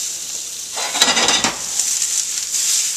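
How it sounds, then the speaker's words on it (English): Onions and apples sizzling in a pan as they sauté for risotto, a continuous bright frying hiss with a short burst of stirring and scraping partway through. "Those onions covered in those apples. Sauteing away."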